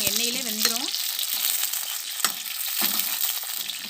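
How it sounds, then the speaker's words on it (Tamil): Brinjal pieces fry in sesame oil in a pan, giving a bright, continuous close sizzle with a brief tonal squeak near the start and a few sharp clicks. "கத்திரிக்காய் எண்ணெயிலே நல்லா வதங்கட்டும்"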